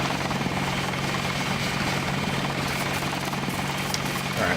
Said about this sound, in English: Helicopter, come back.